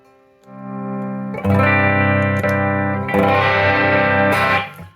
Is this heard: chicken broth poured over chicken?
no